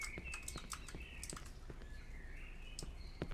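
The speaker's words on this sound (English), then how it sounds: "I hear birdies chirping." Small birds chirp in short, scattered tweets in the horror game Cry of Fear, faint against a quiet ambient background with light clicking sounds.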